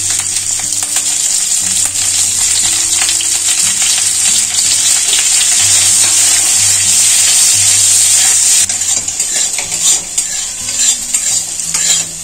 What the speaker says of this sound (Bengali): এই তেলেতেই ক্যাপসিকামগুলো একটু নুন দিয়ে ভেজে নেব।